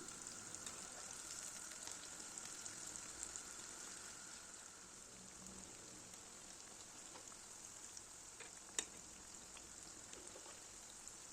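Steady, soft sizzling and crackling of eggplant slices frying in hot oil in a pan, with faint pops scattered throughout and no voices.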